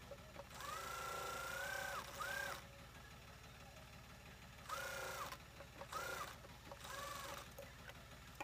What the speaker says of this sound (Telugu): ఇలా ఇప్పుడు ఈ అంచులు కుట్టేసుకోవాలి.